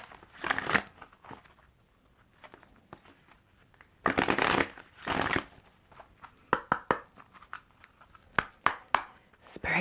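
Oracle cards being shuffled by hand in quick close bursts, crisp riffling and flicking in several short clusters separated by quiet pauses.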